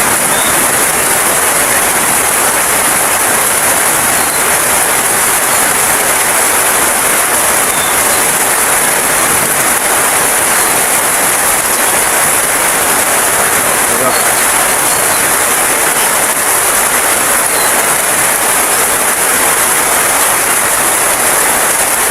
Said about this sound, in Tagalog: maingay yung ulan. Hindi nyo ako masyadong maririnig. Maingay sa bubong.